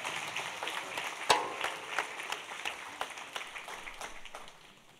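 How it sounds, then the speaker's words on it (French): Scattered hand clapping from a congregation at an Easter church service, fairly faint and sparse, with a few sharper claps standing out over a soft room background. "On peut l'applaudir?"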